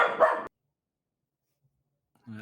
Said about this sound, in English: As I answered that, my dog was barking.